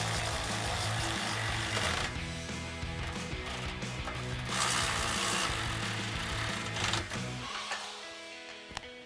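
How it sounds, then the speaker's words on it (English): A 13mm socket tightening bolts on the step brackets of an F-150 during a drop-step install, a busy mechanical ratcheting and clattering that runs steadily before trailing off near the end. "I'm going to take my 13mm socket and tighten these down"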